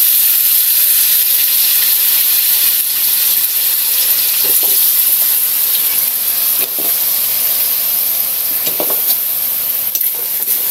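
Squash frying in a pan gives a steady, close sizzling hiss throughout, with a few soft stirring scrapes breaking through now and then.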